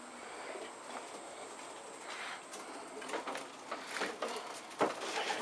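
Racing pigeons of Meuleman x Claessen lines in a loft make faint, intermittent cooing and soft scattered sounds over low room noise, with a few brief louder bursts.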